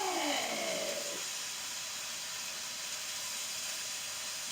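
Shrimp sizzle in a hot pan as they are turned with tongs, a steady broad hiss that holds at an even level throughout, with a brief faint scraping tone at the start.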